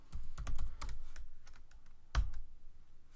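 A short burst of computer keyboard typing sounds close up as a terminal command is entered, a quick run of clicky keystrokes with one louder final key press and no talking.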